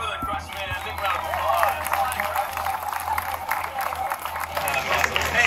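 Audience applause and cheering at the Turtle Talk with Crush show in Disney California Adventure, a steady wash of clapping from a crowd lasting throughout, with voices mixed in.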